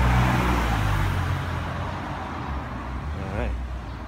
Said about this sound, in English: Old Porsche.